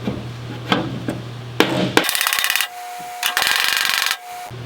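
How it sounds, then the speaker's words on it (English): Rapid metallic taps of a square-edged hammer on an International Scout's sheet-metal body panel, two bursts of quick repeated strikes with brief pauses and a short scrape between, close and fairly loud. "I have another hammer with a square edge that'll let me get right up against the body line"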